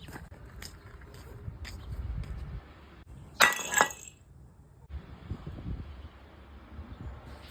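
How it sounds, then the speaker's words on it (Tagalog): A ceramic plate breaks and shatters in one sudden loud crash with clinking fragments, set between quieter rustling and handling sounds. "Nakita kitang napasag mo yung plato."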